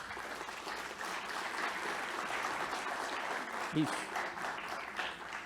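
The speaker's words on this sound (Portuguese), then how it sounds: "a quem eu peço uma salva de palmas" Audience applause at a seminar on new technologies for the Pinheiros River in São Paulo, a steady wash of clapping running throughout, with a short spoken word partway through.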